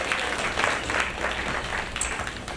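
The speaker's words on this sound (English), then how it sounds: "Please give her a hand of applause." Audience applause at an anniversary celebration, a steady wash of many hands clapping throughout, fairly close and even in level, with no talk over it.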